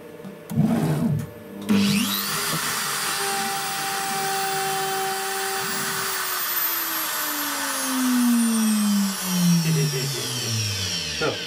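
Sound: CNC router milling 12 mm plywood with 4 mm single-flute cutter

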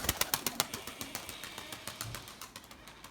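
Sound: Melemen testisi pigeons

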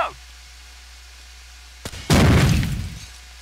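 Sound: frag grenade explosion in video game Rainbow Six 3 Raven Shield

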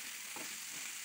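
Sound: frying onions, carrot and capsicum in a pan for samosa filling

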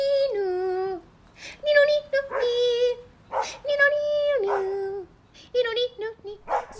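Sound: dog barking and whimpering

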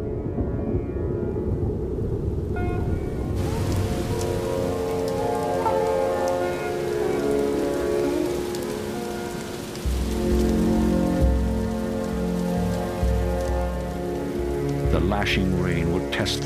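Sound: heavy monsoon rain

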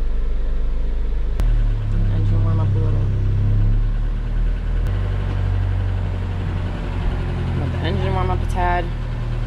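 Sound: boat engine idling after start

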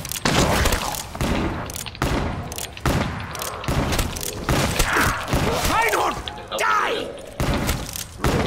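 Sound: pistol gunshots in Call of Duty Zombies video game

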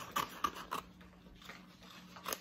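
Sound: scissors cutting paper up to a line

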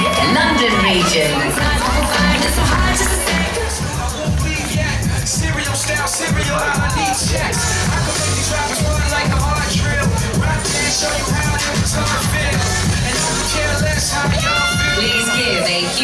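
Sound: audience applause and cheering at an award ceremony

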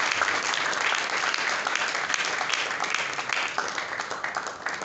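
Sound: audience applause for the artist

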